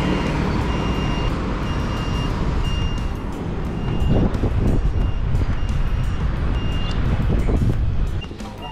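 Busy road traffic on a commute in Taiwan, trucks and cars rumbling past with a broad, steady engine roar, while a truck's reversing alarm beeps at an even, repeating rhythm in the background.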